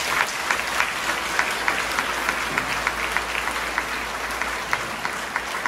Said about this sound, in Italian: facciamoci auguri con un grande applauso